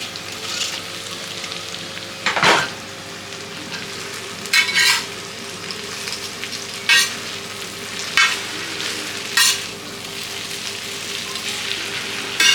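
Hakka noodles with chicken and egg sizzle steadily in a hot pan, with several separate scraping stirs cutting through at intervals and one heavier clatter near the start.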